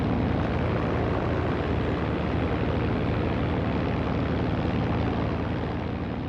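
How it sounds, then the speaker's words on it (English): An RAF P-40 fighter in flight over North Africa in 1942 gives a continuous, dense piston-engine drone that stays loud and unbroken throughout, with no voices. "This is an RAF P-40 in North Africa in 1942."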